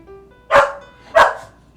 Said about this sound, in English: Sif, you stinky little dog